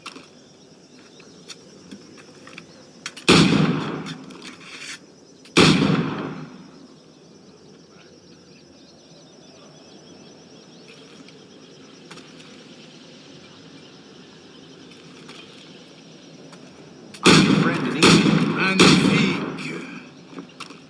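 Two heavy firearm blasts in Assassin's Creed Black Flag, a few seconds apart, followed later by a rapid cluster of several more booming shots, over a quiet ambient game background with insects and birds.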